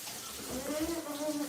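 Water runs from a tap for handwashing, a soft steady splashing rush that sits close by with a voice speaking over it.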